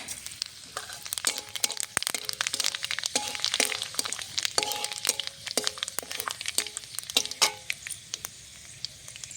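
Panch phoron spices crackling in hot oil, dense rapid pops and snaps over a soft sizzle, close and continuous, with bright irregular crackles throughout.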